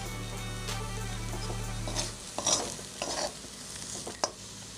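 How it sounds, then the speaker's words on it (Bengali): Dried shrimp paste frying in a pan over low flame, a steady sizzle broken by scraping stirs and a few sharp knocks of a utensil against the pan in the second half. "এটা এভাবেই ফ্রাই হচ্ছে"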